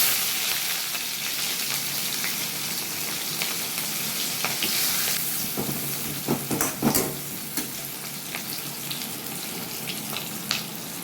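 Chopped onion frying in mustard oil in a wok, a continuous close sizzle and crackle with some stirring scrapes and brief clatter toward the end, no voices.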